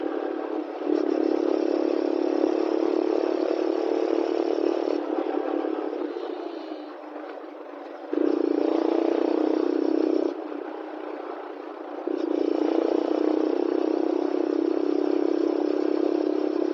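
A TVS Ronin 225 Special Edition motorcycle with stock exhaust revving in repeated bursts, a loud steady drone that surges, drops back, then climbs again, heard close and alone.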